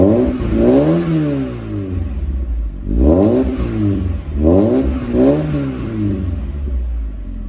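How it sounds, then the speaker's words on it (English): A naturally aspirated 1.8-litre four-cylinder car engine revs up and falls back several times over a steady idle, loud and close. "I'm gonna give it a rev here as soon as it warms up a little bit."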